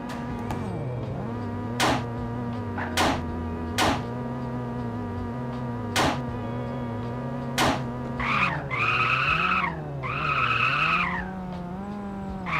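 Cars skid in a Unity video game, with steady engine drone under repeated sharp tire screeches and longer squealing slides, loud and with no talking over them.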